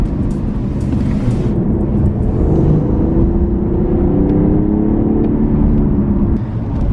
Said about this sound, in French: c'est toujours bon d'avoir une sonorité assez sympathique de 6 cylindres essence